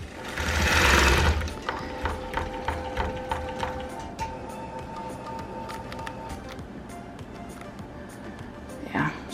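A longarm quilting machine stitches through a thick T-shirt quilt, a rapid mechanical needle rhythm with whirring and clicking at close range, following a brief loud burst at the start.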